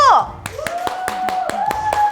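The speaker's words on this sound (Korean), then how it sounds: "박수!" A few people clap in a small office group, roughly nine sharp claps in an uneven rhythm, close and fairly loud, with a voice and tonal chatter running underneath.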